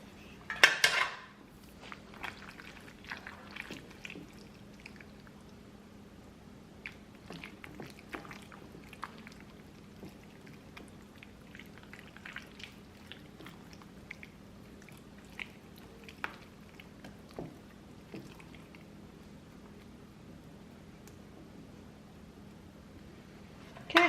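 Washed chicken pieces are stirred into a wet batter in a bowl, with a long run of soft squelches and light clinks of a spoon against the dish, quiet and close.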